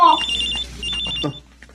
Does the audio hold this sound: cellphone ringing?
yes